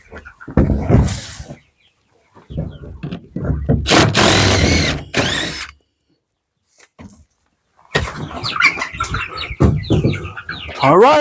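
Freedom Ranger meat chickens cluck and squawk in loud, close bursts with brief quiet gaps in a small enclosure, mixed with rustling and the scrape of movement.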